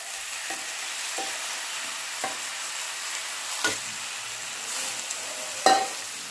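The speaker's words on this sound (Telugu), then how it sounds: "ఇప్పుడు చెన్నంగి ఆకు ఇందులో వేసుకొని మొత్తం కలిసేదాకా కలుపుకోవాలి" Chennangi leaves being stirred into dal in a pot, a steady low sizzle with a few spaced scrapes and knocks of a spoon, the last one louder.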